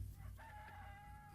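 A rooster crows once, a drawn-out cock-a-doodle-doo of moderate loudness over a steady low rumble, with no voices present.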